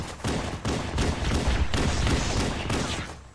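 Pistol shots in Halo: Combat Evolved, fired in a quick string of heavy, booming reports with a few short gaps, loud and close, with no talk over them.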